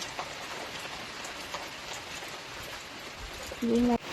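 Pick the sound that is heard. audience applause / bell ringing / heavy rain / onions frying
heavy rain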